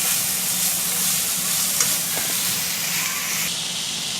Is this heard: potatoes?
yes